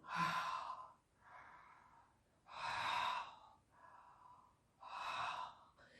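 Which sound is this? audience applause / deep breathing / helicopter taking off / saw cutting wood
deep breathing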